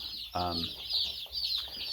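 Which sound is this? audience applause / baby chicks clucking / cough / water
baby chicks clucking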